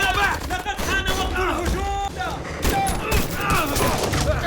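Bursts of gunfire crackle in dense, rapid volleys during a film ambush on a team by Taliban fighters, loud and continuous, with a voice talking underneath.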